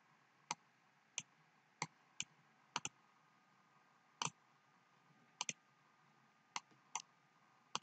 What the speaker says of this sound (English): So I'm going to click on the next layer.